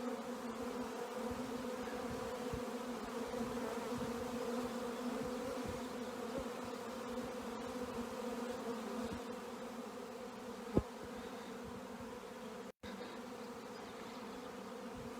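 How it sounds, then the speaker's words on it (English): A honey bee swarm buzzes steadily and loudly outdoors as the insects move in, a dense continuous drone with a brief sharp knock near the end. "There's so many bees out here swarming."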